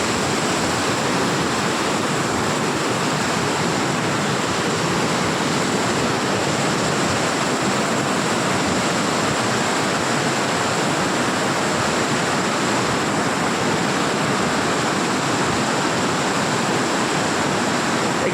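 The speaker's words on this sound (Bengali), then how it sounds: "আমি যাচ্ছি যে এই ঝর্ণা, একদম মেন ঝর্ণা যেখান থেকে আসছে" Water pours steadily from a waterfall in Betla Forest, Jharkhand, a loud, unbroken broadband rush with no pauses and no voices.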